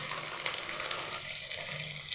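Chili, garlic and chopped onion fry in hot oil in a wok, giving a steady, close sizzle that holds evenly throughout, with no talking.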